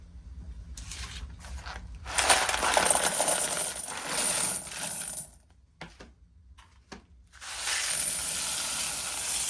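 Pennies being poured and dropped, a dense metallic jingling clatter of many coins that swells loud, pauses briefly, then resumes in a steady cascade, close and with no talking.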